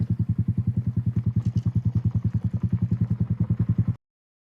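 A Honda Grom small motorcycle ridden through a little town, its engine giving a steady, rapid, evenly pulsing putter that stays loud and close throughout before cutting off abruptly near the end.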